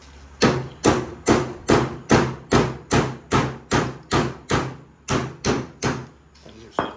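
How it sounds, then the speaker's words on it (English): Hammer strikes tapping a ball joint forward on a Baja Bug build, about a dozen loud, evenly spaced blows, roughly two per second, then a final hit after a short pause. "I need to tap that ball joint forward just a little bit."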